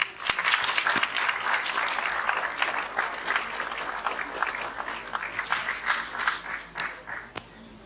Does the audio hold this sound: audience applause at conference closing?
yes